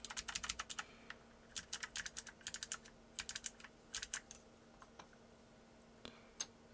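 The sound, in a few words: typing on TheVan MiniVan R2 keyboard with Blue Alps switches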